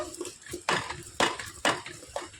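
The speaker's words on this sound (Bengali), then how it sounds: "এবার কড়াইয়ের হ্যান্ডেল দুটো ধরে এইভাবে একটু টস করে নেব" Oil-free snacks are tossed in a kadai gripped by both handles, giving four rhythmic, close metallic clanks with rattling scrapes between them.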